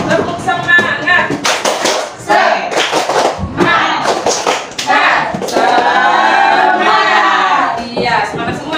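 A classroom of standing students performs the rhythmic tepuk semangat spirit clap, with bursts of patterned clapping and thumps mixed with loud group chanting and voices.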